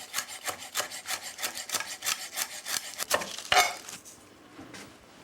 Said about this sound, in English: I'm gonna start off with just some parsley and finely chop it.